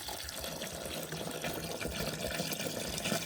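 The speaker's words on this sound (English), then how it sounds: "we go ahead and pour the water in" Water poured into a container of horse grain pellets, a steady close splashing gush that fills the whole moment without pause, with no talking over it.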